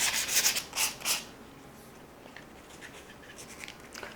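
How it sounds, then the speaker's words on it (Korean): Sandpaper rubbed on a small wooden craft piece, three or four quick scratchy strokes close by, then faint quiet rubbing. "이렇게 좀 길게 생긴 모양도 사포를 마저 해주도록 하겠습니다"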